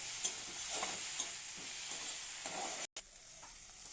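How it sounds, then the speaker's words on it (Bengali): Turmeric, chili powder and garam masala sautéed in a pan, a soft steady sizzle with occasional scraping stirs and a brief gap near the end. "এখন হলুদ দিচ্ছি, তারপর গুঁড়া মরিচ, গরম মশলা এটাকে দিয়ে কষানো হচ্ছে।"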